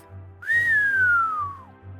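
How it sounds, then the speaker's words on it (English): A single long whistle rising briefly then sliding slowly downward in pitch, clear and close, over a faint low rhythmic hum. "He whistled in disbelief."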